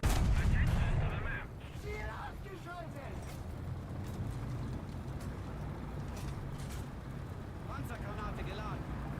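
Tank cannon and gunfire in the War Thunder video game, a loud opening blast followed by scattered shots and a steady engine rumble while someone talks over it.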